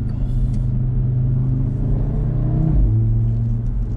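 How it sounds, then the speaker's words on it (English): An Audi RS3 idles with its factory sports exhaust, giving a deep, steady burbling rumble, close and loud, with a brief rise in revs near the end. "So this is the factory sports exhaust."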